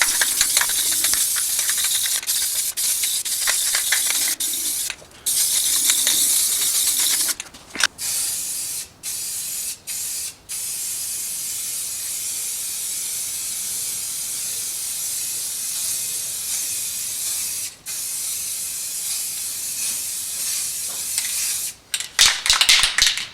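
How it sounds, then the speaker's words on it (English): Repeated bursts of aerosol automotive primer hiss loudly onto bare metal on the floor pans of a 1965 Corvair, with short pauses between passes and no talking. "anything that resembles bare metal gets a coat of automotive primer"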